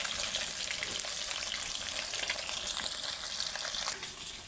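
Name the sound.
rupchand pomfret fish frying in a wok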